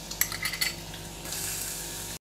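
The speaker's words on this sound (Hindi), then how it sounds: "तो सबसे पहले हम लहसुन और प्याज को डालेंगे" Garlic and onion go into hot ghee in a kadai: a few quick utensil clinks, then a steady, close sizzle that builds and holds.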